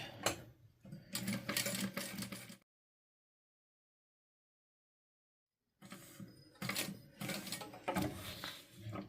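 A sewing machine stitching fabric in two close, rapid mechanical bursts separated by about three seconds of silence.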